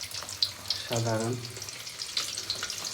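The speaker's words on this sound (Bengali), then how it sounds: "তেল ছিটকে লাগছে" Eggs frying in a pan of hot oil crackle and spatter in sharp pops over a steady sizzle, close by, with a brief voiced sound in the middle.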